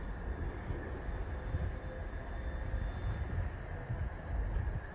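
A tram train, unit 399-205, passes through Rotherham Central station with a low, continuous rumble and a faint high whine, heard from a short distance with no talking.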